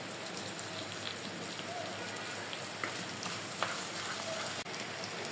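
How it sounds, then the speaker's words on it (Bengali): Large fish roe frying with onion and spices in a pan, a steady crackling sizzle, close and even, with a couple of soft stirring knocks. "ডিমগুলো একটু ভালোভাবে মশলার সাথে 2-3 মিনিটের জন্য এভাবে ভাজা ভাজা করে নিতে হবে।"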